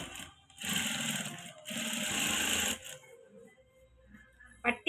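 A sewing machine edge-stitches along a blouse band in two close, steady bursts of rapid whirring, followed by quieter handling noises and a few faint clicks.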